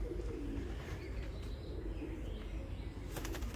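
Healthy, clean racing pigeons in a loft coo softly and flutter their wings at close range, a steady low murmur of birds with a few brief wing flaps near the end.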